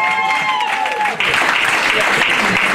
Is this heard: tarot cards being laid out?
no